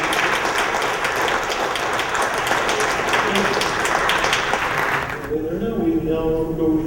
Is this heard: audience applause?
yes